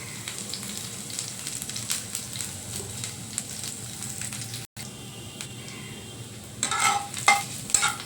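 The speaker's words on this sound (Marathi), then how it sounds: "तेल गरम झालंय आता आपण या लसूण घालूया आता जिरं" Garlic and cumin sizzle steadily in hot oil in a pan, a continuous close frying hiss with a brief break midway and louder crackling spurts near the end.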